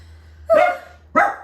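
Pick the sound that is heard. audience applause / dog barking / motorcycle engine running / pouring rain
dog barking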